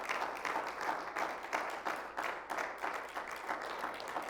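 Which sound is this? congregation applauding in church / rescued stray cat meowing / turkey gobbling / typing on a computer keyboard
congregation applauding in church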